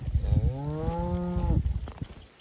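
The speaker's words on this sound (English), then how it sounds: "We got 70 cows in here," A single long, loud moo from a cow nearby in a herd of about 70 cows with calves on pasture, rising and holding before trailing off, followed by quiet shuffling.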